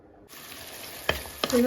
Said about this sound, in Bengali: রান্না শুরু করে লাইছি তেল দিছি রসুন আর পেঁয়াজ দিয়া পালাটিকে কষাইয়া নিছি